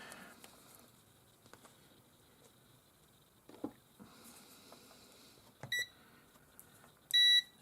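A multimeter set to continuity chirps while checking the fuse of a 500 W mini heater: two short, sharp electronic beeps near the end, the last one louder, over faint handling taps and rustles.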